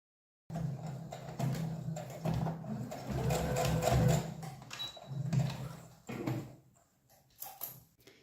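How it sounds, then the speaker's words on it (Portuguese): A sewing machine stitches a backstitched safety seam on a small multipurpose pouch, a near whirring run of rapid needle strokes in several bursts with short pauses, ending in a brief final spurt. "passa uma costura de segurança aqui também"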